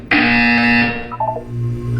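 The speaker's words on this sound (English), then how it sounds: "You will hear a buzzer." A loud electronic buzzer in Portal 2 sounds for nearly a second, steady and harmonic, followed by a short run of quick beeping tones and a low hum.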